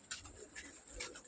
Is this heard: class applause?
no